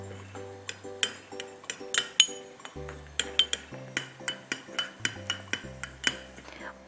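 Rapid clinking of a utensil against a small bowl while paprika powder is stirred into a mixture, a steady run of bright, close taps and scrapes with a faint musical tone humming underneath.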